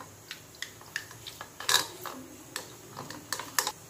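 A whisk taps and scrapes against a bowl as it beats thick, slightly sour curd, giving quiet, irregular clicks at close range with no voices.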